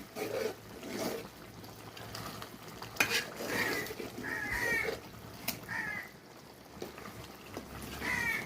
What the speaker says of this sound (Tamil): 5 நிமிஷம் கழித்து மறுபடியும் திறந்து கிண்டி விடுறோம்.